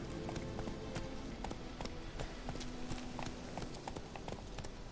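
Horse hooves clip-clop at a steady ridden pace in The Witcher 3 video game, crisp repeated hoofbeats over a soft game ambience, with no talking.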